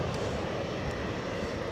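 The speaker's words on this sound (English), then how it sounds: "British Airways, Embraer 190 off to London City, I'm thinking." A British Airways Embraer 190 jet roars steadily and loudly at close range, a dense, continuous engine rumble with no voices over it.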